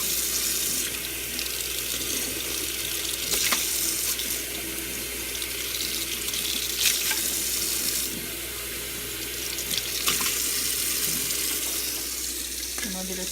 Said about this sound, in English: I'm just going to let hot water get in there to get all this gunk out.